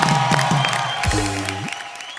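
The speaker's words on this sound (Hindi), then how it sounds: "तो इस बात के लिए खड़े होके तालियां।" Audience at a live Hindi comedy show applauding, a broad wash of clapping and crowd noise with some sustained tonal sounds and a low rising tone mixed in.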